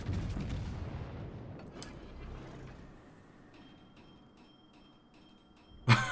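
Musashi battleship main guns firing in the naval combat game World of Warships: a heavy, booming rumble at the start fades over a few seconds, followed by faint ticking tones and a sharp, loud impact near the end.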